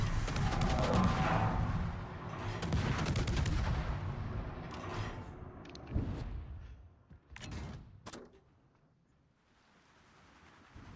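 Naval guns fire in World of Warships, with a rapid series of booming blasts and crackling shots over a rushing sea-like background, then a few isolated reports as the barrage fades.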